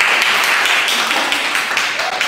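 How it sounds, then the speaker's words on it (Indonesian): Classroom applause for a student group's presentation in a biology lesson, a close, busy burst of many hands clapping, fairly loud and continuous with some murmured voices mixed in. "tolong diberi tepuk tangan ya"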